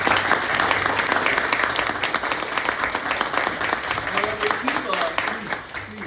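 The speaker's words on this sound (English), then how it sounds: "So I'd like for myself and everyone to please give a round of applause to Siyum HaShas." A large audience applauds at a Siyum HaShas celebration, dense sustained clapping that fills the room with steady crackle, with murmuring voices mixed underneath as it begins to thin toward the end.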